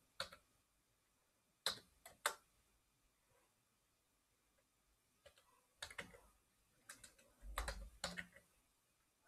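Someone types a command on a computer keyboard in a quiet room, with sparse short bursts of crisp key clicks separated by pauses and a slightly heavier key press near the end.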